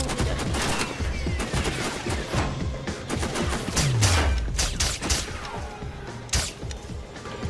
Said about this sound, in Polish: poszło do niego kilka strzałów